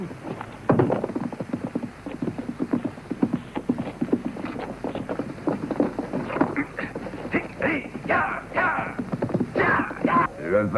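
Horse hooves clip-clop through a scene in a western film, a steady run of close, distinct hoof strikes with a voice briefly speaking over them.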